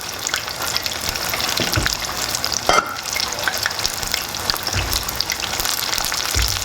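Fish frying in hot oil gives a steady, close sizzle, with a brief clatter partway through and no talking.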